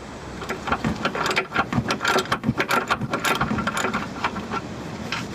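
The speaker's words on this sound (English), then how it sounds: "Put your wrench in the area with the least clearance. Get a breaker bar on there." A ratchet wrench with a breaker bar loosens a suspension nut, giving a quick series of clicking, grinding ratchet sounds at close range, repeated in short bursts.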